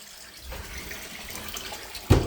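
Water runs quietly and steadily from a tap for a water bath used to cool a pot of honeybee fondant, ending in a brief louder splash.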